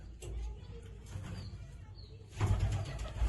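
Quiet cooing of a blind pigeon in low murmurs, with a faint bird chirp and a louder rustle or flutter near the end.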